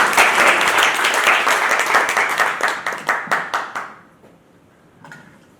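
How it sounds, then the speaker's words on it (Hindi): Loud applause from the audience at an offline engineering community event in India, dense at first, then thinning into a few scattered claps before dying away. "इनके लिए जोरदार तालियां हो जाए सबसे पहले।"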